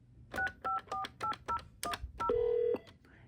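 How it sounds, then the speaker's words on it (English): Intercom phone system dialing a sequence of DTMF keypad tones, about eight short evenly spaced beeps followed by a longer steady tone, clear and close with no talk. "it will dial the phones and stuff like that"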